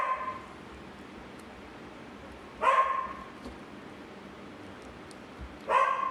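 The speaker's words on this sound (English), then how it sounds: "Got the dog barking in the background." A dog barks in two short bursts of excited barking, a few seconds apart, somewhere in a house in the background, with quiet room tone in between.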